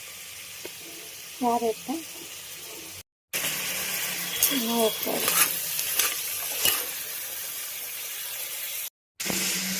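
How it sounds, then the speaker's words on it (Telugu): Carrot, beans and other vegetables sizzle and crackle in hot oil in a pan for vegetable pulao, with stirring scrapes and brief pauses while someone talks over the cooking. "ఇప్పుడు తరకారీ వేసాం కదా, అది బాగా ఆయిల్లో ఫ్రై కావాలి."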